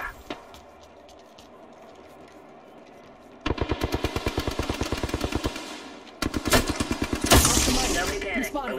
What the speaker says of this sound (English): Careful. Taking fire.